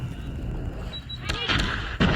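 A grenade explodes in the Call of Duty Mobile shooter game, a sudden loud blast with a broad burst at about 1.3 seconds and a second heavy hit near the end, amid game noise and faint talk.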